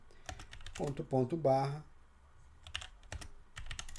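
A Linux command is typed on a computer keyboard in scattered bursts of sharp key clicks, up close and fairly quiet, with a brief stretch of speech partway through.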